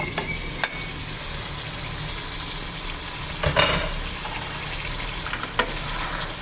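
Tomato masala for Punjabi chicken yakhni pulao sizzles steadily in the pot, a bright continuous hiss with occasional scraping stirs and a couple of sharper clanks from the spoon.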